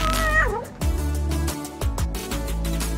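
A cat meows in a fairly loud, wavering cry at the start, set over busy background music with sharp hits, and no talk is heard.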